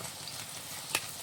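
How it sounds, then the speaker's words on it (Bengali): Potato pieces fry in oil for a fish curry, giving a soft, continuous sizzle with one brief sharp clatter near the end. "আলুটা ভাজা হচ্ছে, তো আলুটা উল্টো পাল্টে নেব"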